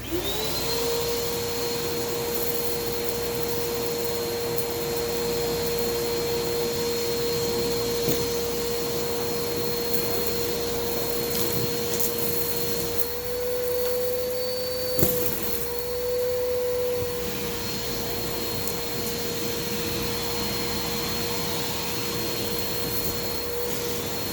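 A Shark Navigator Swivel Plus (NV46) vacuum cleaner runs steadily with a high motor whine, briefly dipping in pitch midway before returning to its constant drone.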